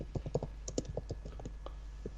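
Computer keyboard typing, a quick irregular run of soft key clicks close to the microphone, steady and fairly quiet under a faint background hum.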